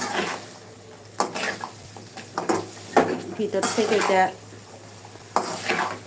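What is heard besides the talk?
stirring garlic pickle in a pan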